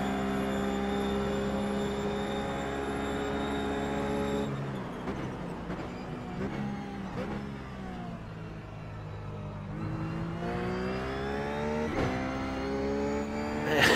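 Ruf GT3 race car engine in the iRacing simulator, a loud sustained harmonic drone with rising and falling revs and abrupt shifts, continuous and close throughout.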